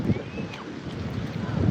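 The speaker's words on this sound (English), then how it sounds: "It's a little windy out here." Wind at the beach buffets the microphone in a steady low roar, with gusts swelling at the start and end and a faint surf-like wash underneath.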